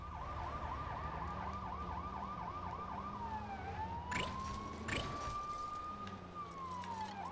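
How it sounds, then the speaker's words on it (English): A police car siren in the Lego City Undercover video game wails loudly, first in rapid yelping cycles and then in a long rising and falling sweep, over a steady engine hum. "No, I want a police car."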